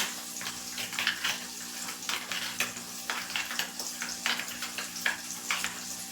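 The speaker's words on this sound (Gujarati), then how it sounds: "થોડું આપણે એમાં હળદર એડ કરીશું અને બધું એડ કરી બરાબર મિક્સ કરી લેશું" Turmeric being stirred into a wet bhindi masala paste, heard as rhythmic, moist scraping and sloshing strokes at a steady pace, close and moderately loud.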